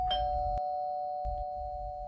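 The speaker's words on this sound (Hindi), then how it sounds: "इस सन्नाटे को तोड़ती है दरवाजे की घंटी की आवाज।" A doorbell rings out in a quiet room as a sound effect in a Hindi mystery audio drama, a clear sustained chime with a low rumble underneath, repeated after a short pause.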